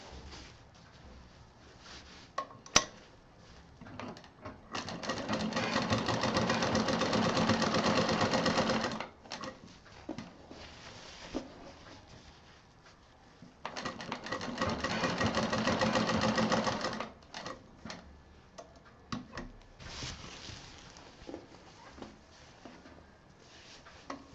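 A sewing machine stitches a belt onto a small DIY mini tour bag, running in two loud sustained bursts of about four seconds each, with quieter handling noises and short stitching runs between them.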